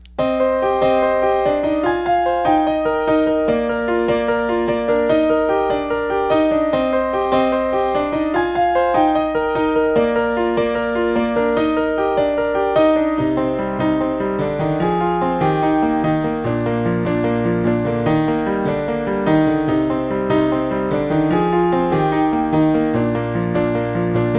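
A piano plays the main riff of a song, the same pattern cycling several times at a steady tempo, with a low bass line shifting partway through; no talking.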